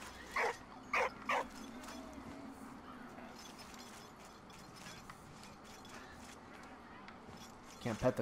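A dog in Valiant Hearts: The Great War gives three quick yips near the start, followed by a quiet mechanical hum, then another short bark at the end.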